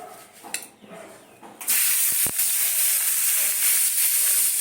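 Pointed gourd and potato pieces frying in hot oil, a sudden loud sizzle and hiss that starts partway through and then holds steady and close.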